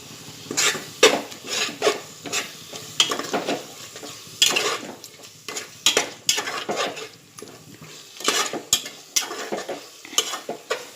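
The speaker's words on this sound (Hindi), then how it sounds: "ये मसाले को थोड़े टाइम तक मैं भूनूंगी" Coriander powder and garam masala are roasted in a pot for mutton dal gosht, with sharp, uneven spoon scrapes against the metal every second or so over a light sizzle, close and loud with no voices.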